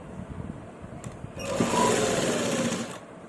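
A sewing machine runs in one steady burst of about a second and a half, stitching a shirt sleeve up close and loud, with quieter handling noise before it starts.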